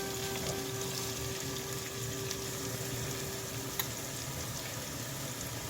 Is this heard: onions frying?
yes